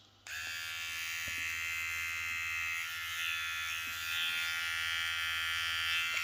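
Kemei Max 5090 hair clipper, an Andis GTX Exo replica, switching on and running: a sudden start followed by a steady, close electric buzzing hum that holds for several seconds.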